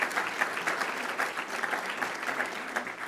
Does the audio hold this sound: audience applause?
yes